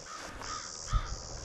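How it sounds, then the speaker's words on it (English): A bird on a morning trail gives harsh, crow-like caws, two drawn-out calls close together, fairly near and clear over faint outdoor background. "a nice bird song, like a very pretty notes"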